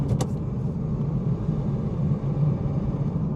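Manual BMW M240i engine droning steadily after a shift into fourth gear, a low rumbling cabin hum with a short sharp mechanical click right at the start.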